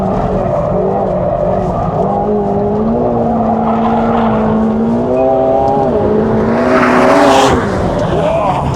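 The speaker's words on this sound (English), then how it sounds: "Very, very clean lap by Sam here. This is very quick" A supercar, either a McLaren 750S or a Lamborghini Revuelto, sweeps through a fast lap on a race track. Its engine note drones steadily and rises and falls as it accelerates, with a brief tire squeal near the end and a voice talking over it.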